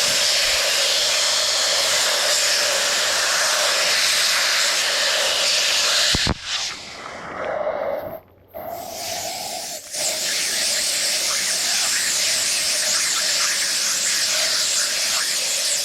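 A strong, steady hiss of water spraying from a hose onto a pool filter, briefly interrupted twice before resuming at full force.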